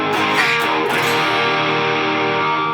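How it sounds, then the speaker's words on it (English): Electric guitar played through a Proco RAT distortion pedal with silicon diodes gives a thick, buzzy, fuzz-edged distorted chord that rings on loudly and alone, with a few picked accents at the start. "As you can hear, it's got that in-between sort of distortion and fuzz that a lot of people like."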